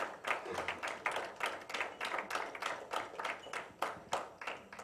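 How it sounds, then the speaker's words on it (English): Clapping hands at a dance research congress in Dadar, Mumbai, coming as uneven, moderately loud bursts of claps throughout, like a small group applauding rather than a dense roar. "A big round of applause for every one of them."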